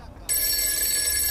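A telephone rings with a steady electronic tone that cuts in suddenly after a moment of quiet, then continues loud and unbroken to the end.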